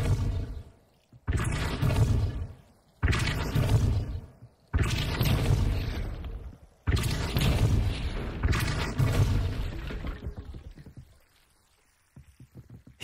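Depulso spell cast in Hogwarts Legacy, heard as a series of five or six deep, booming whooshes that each swell and fade, separated by short silences, loud and close.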